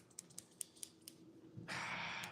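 A few quiet snips and clicks in an uneven rhythm, then a soft, sustained rustling swish at the end; faint overall.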